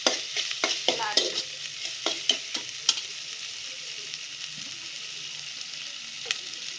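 Food frying in oil sizzles steadily while a utensil stirs it, giving a quick run of clattering scrapes early on that thins out to occasional knocks over a softer, continuing hiss.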